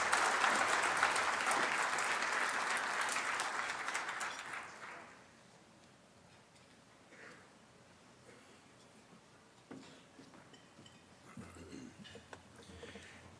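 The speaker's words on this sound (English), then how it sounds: "Let's give them a nice round of applause" Audience applause at a collegiate livestock judging contest awards banquet, a loud, dense round of clapping for about five seconds that fades out, followed by a quiet room with faint rustling.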